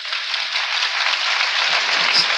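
Sustained applause from a lecture audience in a hall, a thick, even roar of many clapping hands. It holds at a steady loudness throughout, with no speech on top.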